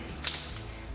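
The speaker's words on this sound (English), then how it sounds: "Get snugged up with a ratchet first." Ratchet snugging a bolt on a 2004 Subaru Forester XT during ball joint work, giving a single quick close click-and-creak burst within a quiet second.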